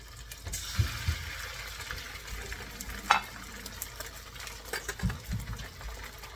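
Scaled Atlantic salmon sears skin side down in a hot pan over medium-high heat, giving a steady close crackling sizzle with a few louder pops and spatters and no talking.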